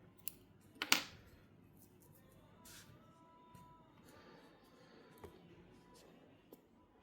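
A single quick snip of scissors cutting crochet yarn, close but quiet, followed by a few faint clicks and light handling noises in an otherwise hushed room.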